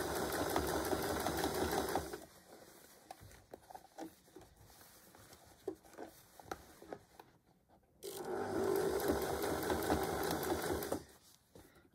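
Sewing machine running a zigzag stitch to patch ripped jeans, two loud steady bursts of rapid mechanical whirring separated by a quieter pause with small handling clicks.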